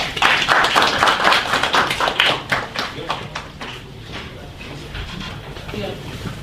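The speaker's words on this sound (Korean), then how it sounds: "박수 주십시오." Audience clapping for a patent and trademark law lecture at an indoor talk, a dense burst of many hands that starts loud and gradually thins and fades over several seconds.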